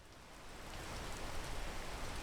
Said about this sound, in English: this rain ruins everything